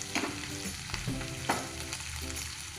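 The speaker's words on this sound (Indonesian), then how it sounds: "Perlahan-lahan, tumis hingga harum dan bumbunya agak mengering." A ground spice paste sautés gently over low heat in a pan for capcay kuah, giving a soft, continuous sizzle broken by regular scraping strokes of stirring.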